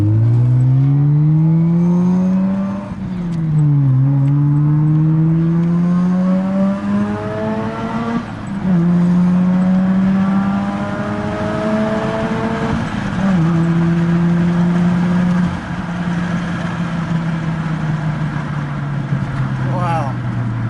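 Mazda RX8 rotary engine driven on a test drive after an overheating repair, the tone climbing steadily through the gears with shift drops between, loud and close inside the car.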